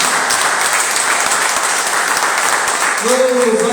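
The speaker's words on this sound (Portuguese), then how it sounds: "Você pode aplaudir o Senhor," A church congregation applauds in a dense, steady wash of clapping, filling the room throughout, with a voice rising briefly near the end.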